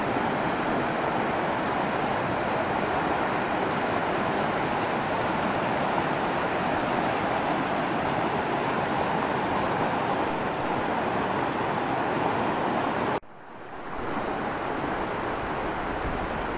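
A stream swollen by heavy overnight rain rushes through a forest in a steady, dense roar that stays loud and unbroken apart from a brief dip near the end.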